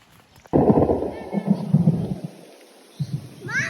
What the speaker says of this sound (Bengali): আমাদের বৃষ্টি ধরেছে, দৌড় মারো।